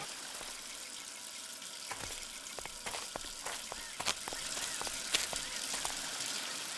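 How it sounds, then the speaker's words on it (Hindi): Water sprays and hisses steadily from a burst water pipe, a continuous broadband rush with scattered splashes and clicks, moderately near. "यहाँ पे पानी की पाइप फटी हुई है।"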